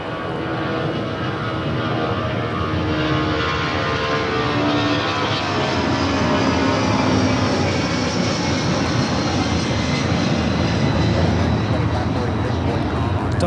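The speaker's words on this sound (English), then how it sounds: "Delta 757-200, flight 8928 taking off." Delta Boeing 757-200 charter jet taking off from runway 25 Left at Los Angeles International Airport, a loud, steady broadband engine roar sustained throughout, with a voice talking over it.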